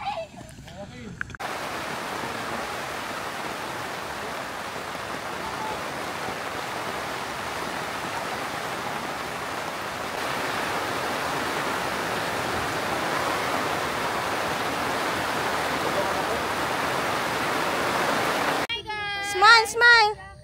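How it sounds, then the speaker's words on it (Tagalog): A dense, steady downpour roars over a mountaintop campsite in Batangas City, Philippines, for most of the clip, broadband and constant, with brief voices before and after it. "bago pa dumating ang malakas na ulan"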